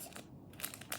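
Scissors cut open a Pokémon booster pack in a short burst of close, crisp crinkling snips, the foil wrapper crackling in several quick bright pulses.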